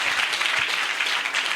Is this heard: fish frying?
no